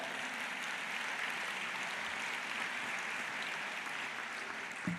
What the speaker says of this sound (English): you can clap for him if you want